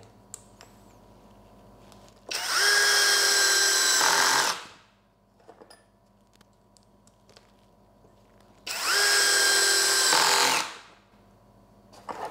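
A Bull BL26Li cordless brushless impact driver drives screws in two loud, close bursts of about two seconds each, separated by quiet pauses with faint background hum.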